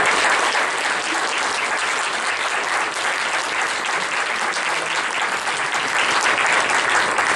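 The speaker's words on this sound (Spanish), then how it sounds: "econocer el liderazgo y el empuje de Marisa, y pues un agradecimiento y pues un aplauso." An audience at a presentation event gives steady, dense applause throughout, loud and sustained with no break.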